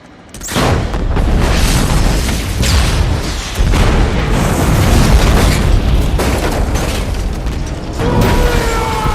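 A loud film explosion from an action scene in xXx erupts suddenly into a sustained rumbling roar with crackling debris, followed by further booming blasts, close and overwhelming throughout.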